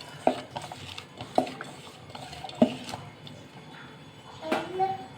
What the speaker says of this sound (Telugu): మొత్తం వేసేసుకొని బాగా ఇలా స్మాష్ చేసుకోవాలి.